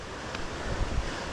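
A creek runs beside a hiking trail, giving a steady, close wash of flowing water with some wind rumble across the microphone.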